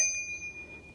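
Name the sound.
bicycle bell on a Lectric XP 4 e-bike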